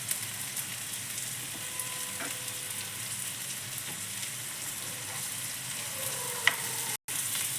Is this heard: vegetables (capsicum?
yes